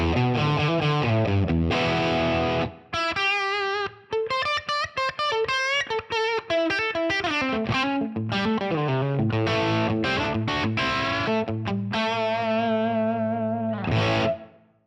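Electric guitar played through Line 6 original amp models on a Pod Go, heard alone as sustained distorted chords and melodic lines with effects and a short break near the end.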